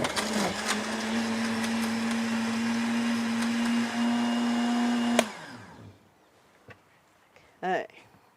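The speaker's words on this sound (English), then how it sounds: "Okay, I'm going to puree." A blender purees plant material for dye, a loud steady motor whine running for about five seconds before switching off and spinning down, followed by quiet clatter and a short burst of speech.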